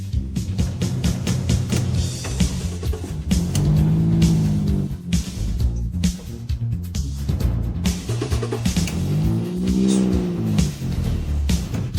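A 2008 Jaguar XJ engine turning over and revving in surges, then stalling, loud and close with no talking.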